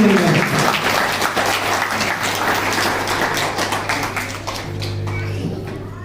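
A crowd at a Ravidas Jayanti community gathering claps loudly to welcome an invited guest, dense applause starting strong and slowly thinning, with a low steady hum from a sound system underneath.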